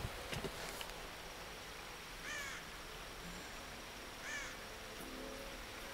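Two distinct crow caws from the Tomb Raider (2013) video game, each a short harsh call a couple of seconds apart, moderately distant over a quiet background with faint insect-like hiss.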